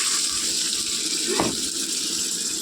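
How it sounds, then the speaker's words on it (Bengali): Water swirled from a rinsed spice bowl pours into simmering curry, a short splashing gush landing over a steady hiss and bubbling at close range, with no talking. "এইবার কিন্তু আমি এই যে মশলা করেছিলাম সেই বাটি ধোয়া জলটা আমি এখন এর মধ্যে দিয়ে দেবো"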